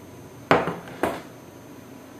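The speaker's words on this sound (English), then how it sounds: "so we have to get a mixing bowl" A mixing bowl is handled on a kitchen counter, giving two sharp knocks about half a second apart, each ringing briefly before fading into quiet room tone.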